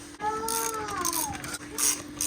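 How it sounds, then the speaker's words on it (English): Hand ratchet working on seat bolts inside a Honda Civic EM2 cabin, a close, steady run of rapid clicking pawl ticks lasting a couple of seconds, with metallic rattles and no talk. "I'm literally gonna get in here, take these two bolts off, and we'll go from there."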